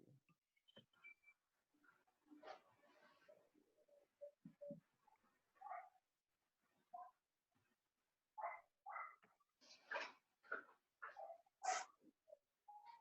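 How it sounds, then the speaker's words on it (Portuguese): Dogs bark in scattered, irregular bursts from a short distance, some yelps sharper and louder than others, with quiet gaps between volleys and no talking over them. "Começou a cachorrada."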